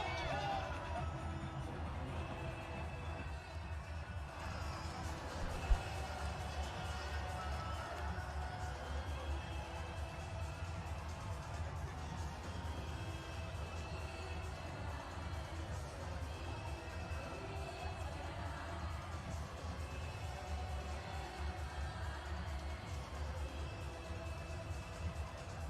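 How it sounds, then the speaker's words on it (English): Cricket stadium crowd cheering after a six at a T20 final, a steady, distant roar of hubbub and shouting that holds for the whole stretch, with commentary voices under it. "look at the crowd on their feet. They are dancing"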